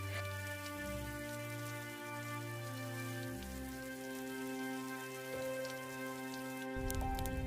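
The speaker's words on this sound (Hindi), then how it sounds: "यह बारिश तो बंद होने का नाम ही नहीं ले रही है" Steady rain falls continuously over a cold village scene, a soft even hiss holding at a constant level for the whole stretch with a low tonal drone beneath, no talking.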